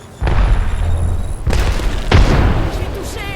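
Grenade blasts in the video game Apex Legends: two heavy booming explosions, one at the start and one midway, with a third burst following close behind, loud and near, amid game effects and someone talking.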